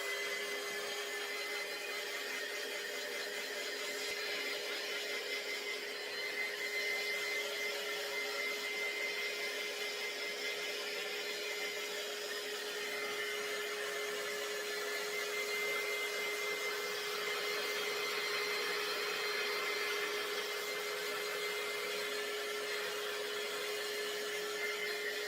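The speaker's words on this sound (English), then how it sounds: "we're going to take a little bit of sanding and we're going to distress it" A steady, loud power sander works over a DIY wooden sign to distress its surface, a constant whining buzz lasting throughout with no talking.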